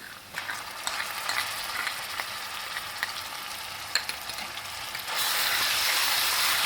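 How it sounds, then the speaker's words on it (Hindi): Ginger, garlic paste and green chilli frying in a pan for Maharashtrian bhakarwadi, a steady close sizzle with scattered crackles and stirring scrapes, growing louder and hissier toward the end. "अब हम इसमें अदरक और लहसुन का पेस्ट डाल देंगे।"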